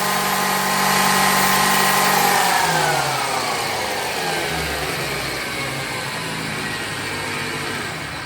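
Parkside PDM 600 B2 lathe motor whining steadily with pitch shifts as it steps through speeds, a continuous mechanical hum close up.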